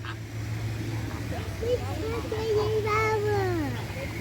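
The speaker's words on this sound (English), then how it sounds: "Look at the birds." Birds calling inside a zoo bird house, with rising and falling whistled and honking calls over a steady indoor hum; someone speaks amid the calls.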